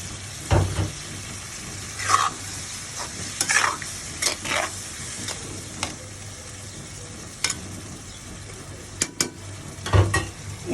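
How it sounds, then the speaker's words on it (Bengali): New potatoes and peas being stir-fried together in a pan: steady sizzling broken by repeated scraping and clinking strokes of a spoon against the pan, close and fairly loud, no talking. "এবার আমি নতুন আলু আর মটরশুঁটি একসাথে দিয়ে আমি কষিয়ে নেব"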